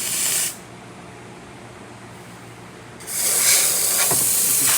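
A Vibiemme espresso machine's steam wand gives two loud, bright hissing purge bursts, a short one at the start and a longer sustained one after a quiet pause.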